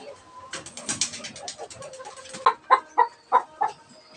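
Young hens about five months old, a Filipino backyard flock, cluck in a run of five sharp, evenly spaced calls, with softer mixed fowl chatter before them.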